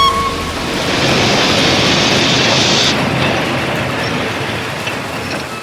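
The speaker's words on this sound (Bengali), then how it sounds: "রাত্রির 2টোর ট্রেন আধ ঘন্টা লেট করে যখন স্টেশনে এসে পৌঁছল" Steady rushing rumble of a train pulling into a station at night, a broad continuous roar that swells in the first second and holds loud throughout, with a hissing upper layer that drops away partway through, used as an audio drama sound effect.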